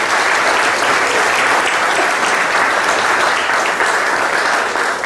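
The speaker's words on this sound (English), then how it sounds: "let's give them a big round of applause" An audience at a community event gives a big, steady round of applause for corporate sponsors, loud continuous clapping filling the whole stretch without letting up.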